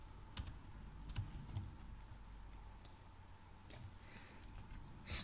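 Faint, sparse key clicks from typing on a computer keyboard, irregular taps over a low room hum, with a louder click at the very end.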